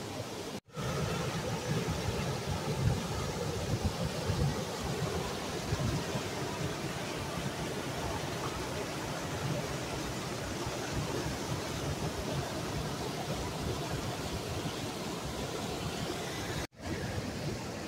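A small waterfall on the Sapo River, a continuous broad rushing roar of falling water, steady and full, heard alone with two brief cuts.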